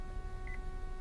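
Hands-free system chime in a 2009 Acura TL after the talk button is pressed, a quick double beep, clear but soft over a low steady cabin hum.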